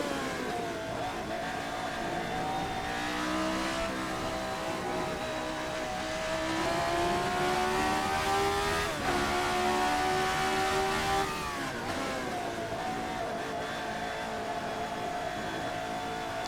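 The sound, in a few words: RSS Formula 79 race car engine in a racing video game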